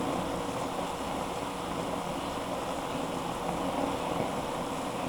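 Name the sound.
water at a full rolling boil on a capillary hoop stove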